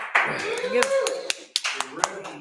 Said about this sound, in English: They give you a clap.